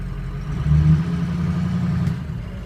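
A vehicle engine idles with a steady low rumble from the exhaust, close and loud, with no one speaking.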